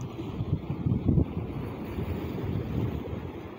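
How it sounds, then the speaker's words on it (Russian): Sea waves wash against a rocky shore, a steady low rumble of surf mixed with gusting wind noise on the microphone, fairly close, with no voices over it. "Через него видно море. Видите, море плещется через дыру."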